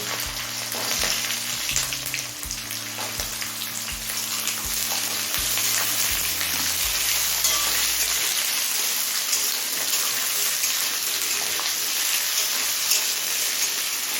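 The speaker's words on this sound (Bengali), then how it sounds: "এবার এই আলু আর গাজরটা কিছুক্ষণ ভেজে নেবো" Potatoes and carrots sizzle steadily in oil in a pan over a medium gas flame, with dried red chillies, black cumin and slit green chillies, a loud continuous crackle with low thumps of stirring early on and no talk.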